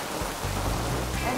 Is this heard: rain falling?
yes